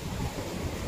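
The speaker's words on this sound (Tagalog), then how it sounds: "Malaki ang alon." Large ocean waves roar in a steady, unbroken wash of surf heard close by, mixed with gusty wind buffeting the microphone.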